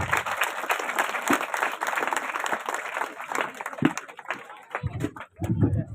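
Audience at a school science exhibition breaks into steady, dense applause, many hands clapping close and loud throughout, thinning near the end with a few voices entering.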